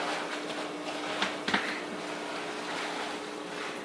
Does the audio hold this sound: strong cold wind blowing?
yes